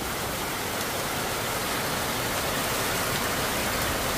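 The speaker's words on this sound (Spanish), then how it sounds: "En la mañana estaba lloviendo y se calmó un rato y ahorita empezó otra vez, pues." Rain falls steadily in a continuous, even hiss that fills the whole stretch, moderately loud and close, with no voices.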